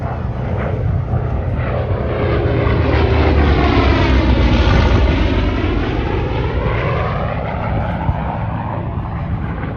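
A propeller airplane at a Cherokee County, North Carolina air show makes a low, fast pass, its engine drone swelling loud overhead and then fading with a falling pitch as it goes by.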